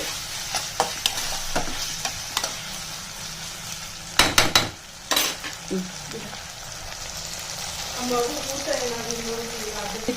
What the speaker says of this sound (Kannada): ನಾನು ತುರಿದಿಟ್ಕೊಂಡಿರೋ ಆಲೂಗೆಡ್ಡೆ ಹಾಕೊಳ್ತಾ ಇದ್ದೀನಿ. ಇದೆಲ್ಲ ಚೆಂದ ಸ್ವಲ್ಪ ಫ್ರೈ ಆಗಲಿ.